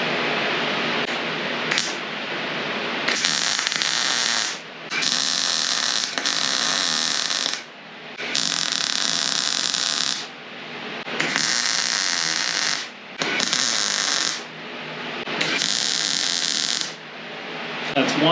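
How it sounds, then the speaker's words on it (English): A nut is tack welded onto a bolt during rust repair on a Jeep TJ. Roughly six loud, steady buzzing welding bursts of a couple of seconds each are separated by short quiet gaps. "I'm going to hold on to the bolt to keep the nut in place while I tack weld it"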